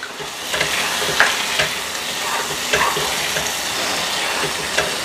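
Curry reducing in a pan sizzles steadily while a spoon scrapes and stirs it in occasional sharp strokes, close and fairly loud with no voices.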